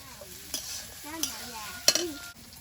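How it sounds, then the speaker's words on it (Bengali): Carrots fry in hot oil in a wok, a steady soft sizzle broken by a few sharp scrapes and clacks of the spatula stirring, close and fairly quiet. "সবজির মধ্যে শক্ত সবজি হচ্ছে গাজর তো গাজরটা আগে ভেজে নেব"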